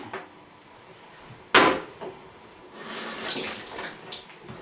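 Tap water runs to rinse starch off cut potatoes in a kitchen, with a sharp clatter partway through followed by a rushing, splashing stream that carries on to the end.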